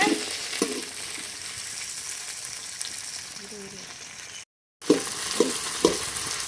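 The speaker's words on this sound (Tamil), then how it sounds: "கருவேப்பிலை போட்டதுக்கப்புறம் நல்லா வந்து மிக்ஸ் பண்ணி விட்டுக்கோங்க" Curry leaves and onion frying in a pan while being stirred, a steady sizzle broken by a few scraping stirs and a brief cut to silence, with no talk.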